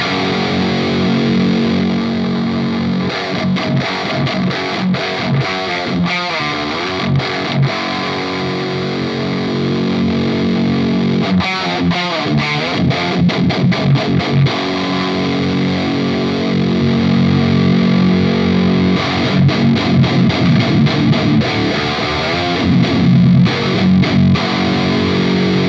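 Heavily distorted electric guitar through a Revv G3 pedal plays loud, sustained chords and riffs with a thick, fuzzy tone, continuous and upfront.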